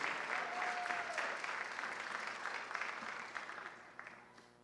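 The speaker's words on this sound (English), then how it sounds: "Give a round of applause to Corner Canyon High School's Kathy Hilton, Apex Award winner for ESP of the Year" An audience at a school district awards ceremony applauds an award winner. The clapping is sustained and even, heard from a distance, and fades gradually over a few seconds.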